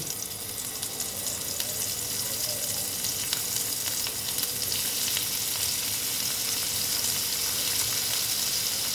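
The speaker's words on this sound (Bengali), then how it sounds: "এবার এই তেলেতেই পনিরগুলো দিয়ে দিচ্ছি" Paneer pieces frying in hot oil for matar paneer, a dense, steady, close sizzle and crackle that runs evenly throughout.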